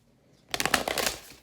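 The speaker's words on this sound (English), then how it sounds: "These new decks are a pain in the balls to shuffle." A new deck of oracle cards is riffle-shuffled once in a short, crisp burst of rapid flutter that fades quickly, close and alone.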